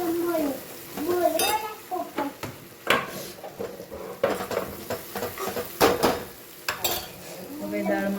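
Dal goes into a sizzling tempering of oil, sambar masala and red chilli and is stirred with a ladle, giving bursts of frying hiss and repeated clinks of metal against the pot.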